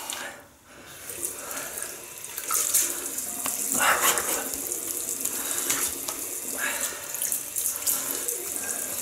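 Tap water runs steadily into a sink while a double-edge razor is rinsed after a wet shave, a continuous close splashing stream with a few brief louder surges.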